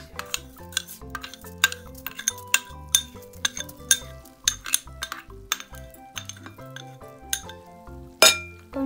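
A spoon clinks against a bowl while bath bomb mixture is stirred at home, producing a run of bright, irregular metallic taps close by with no talk.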